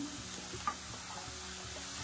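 Grated raw beetroot hits a hot pan for a beetroot palya, giving a quiet, steady sizzle with faint stirring scrapes and one small clack.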